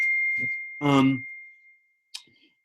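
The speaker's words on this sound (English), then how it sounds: "that was the bell that means I should rewrite it" A single bell dings and rings out in a long, steady tone that slowly fades, with a brief breathy vocal sound over it and a faint click near the end.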